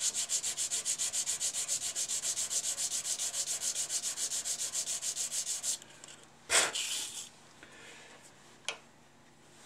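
Sandpaper rubs back and forth on a small wooden toothpick distributor in a fast, even rhythm for several seconds, then stops, followed by a few knocks and scrapes of handling.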